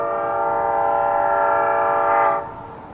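Diesel locomotive on the Durango and Silverton railroad pulling in, a steady loud harmonic horn-like drone that holds for over two seconds before cutting off abruptly, leaving quieter rumble.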